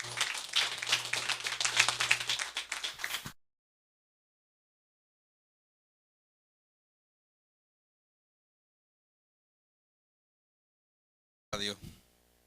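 Church congregation clapping in a short burst of broadband applause lasting about three seconds, with a low steady hum beneath, then a long silence and a brief faint clatter near the end.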